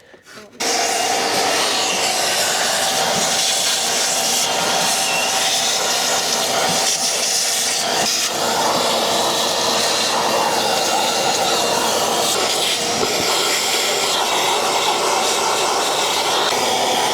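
A vacuum cleaner runs steadily and loudly at close range, sucking debris and cigarette ends out of the interior of a Mercedes A-Class W177, a continuous broadband roar with a few bumps and knocks from the nozzle.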